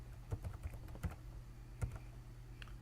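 Keys tapped on a computer keyboard in short, irregular bursts of light clicks, close and fairly quiet, with no talking.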